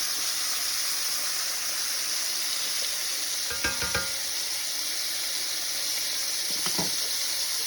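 Food browns in fresh grease, a constant bright frying hiss with a few soft knocks of a utensil against the pan around the middle and near the end.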